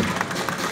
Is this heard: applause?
yes